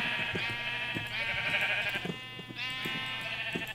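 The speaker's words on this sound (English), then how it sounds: "Sheep, shut it!" Sheep in the video game Minecraft bleat repeatedly, several wavering baa calls in quick succession, close and clear with no talking over them.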